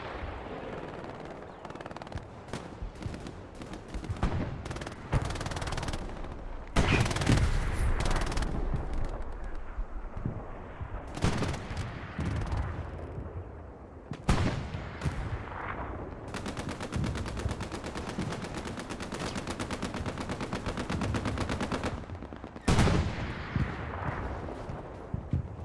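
Machine-gun fire crackles through a WWII-era skirmish battle game set in North Africa at El Alamein, Afrika Korps against the 8th Army. Long sustained bursts and scattered shots repeat throughout, with heavier booms mixed into a loud, dense firefight.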